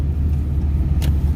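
Road traffic rolls past on a hot evening, a continuous low engine rumble near the microphone. A brief hiss bursts out about a second in.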